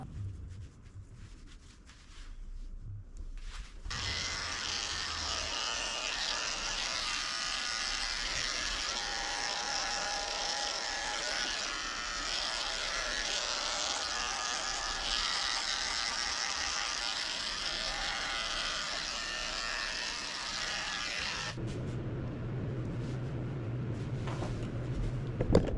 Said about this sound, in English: I'm trimming up his beard nice and short.